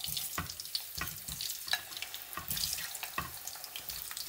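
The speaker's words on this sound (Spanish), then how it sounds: "Cuando esté caliente, se ponen las patatas." Potato slices going into a generous amount of hot oil for a shepherd-style Spanish potato omelette, giving a soft, steady sizzle and crackle with scattered pops, fairly faint and close, without talk.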